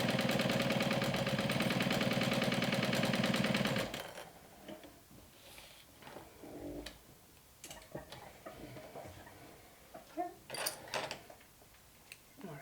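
A domestic sewing machine stitching vinyl runs loudly and rapidly for about four seconds, then stops, followed by quieter handling clicks and rustles.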